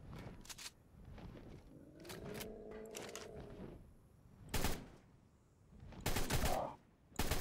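Gunfire at a poison wyvern in the video game ARK Scorched Earth, sharp separate shots and short bursts spread across the clip at moderate volume, with a creature's tonal cry and faint game ambience between them.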